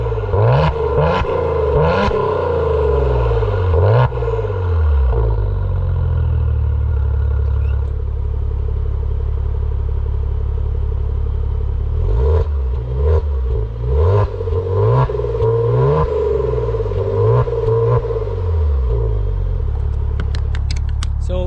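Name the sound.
Maserati Quattroporte engine in sport mode versus regular mode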